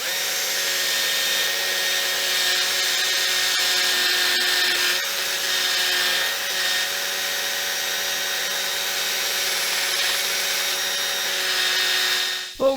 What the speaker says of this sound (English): So I have a buffing wheel with some buffing compound, and I'm just gonna, you know, just gonna see if I can buff this.